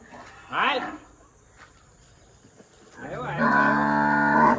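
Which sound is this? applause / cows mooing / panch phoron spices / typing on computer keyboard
cows mooing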